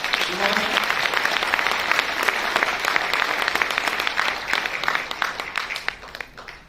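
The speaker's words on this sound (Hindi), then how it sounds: "एक बार जोरदार ताली आप सभी के लिए" An audience at a Modicare training event gives sustained applause: a dense wash of clapping that thins and fades toward the end.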